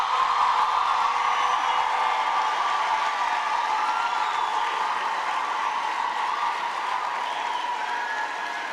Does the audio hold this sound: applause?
yes